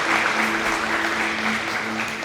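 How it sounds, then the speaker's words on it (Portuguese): A church congregation claps together in sustained applause, a dense, even wash of hand claps holding steady throughout with a faint sustained tone beneath. "Você pode dar uma linda salva de palmas ao Senhor, selando essa verdade"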